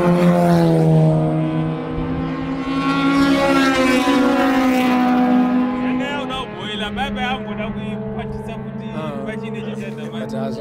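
Race car engines howl through the final lap of a 2018 handicap race on Rossi tyres, with a BMW E36 leading and a smoking Subaru heading to the pit; a loud, sustained engine note rises and falls in pitch.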